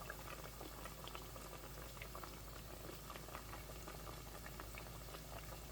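Potato pieces fry in a skillet with a continuous, dense bubbling and crackling sizzle that stays close and even throughout.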